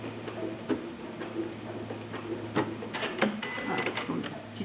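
A new domestic sewing machine stitches a one-piece fabric face mask, giving an irregular run of close, moderate ticking clicks over a steady low hum.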